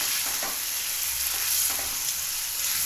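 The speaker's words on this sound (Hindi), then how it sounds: "ये अब मैं गोभी डालने लगा हूँ जी।" Steady sizzling as cauliflower is added to a pot of frying beef, with soft scraping and stirring knocks now and then; no voices.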